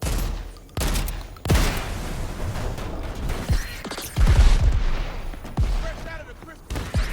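Shotgun fire in the Crackdown 3 video game: several loud, booming blasts in quick succession, with mechanical clicks and scattered game effects between the shots.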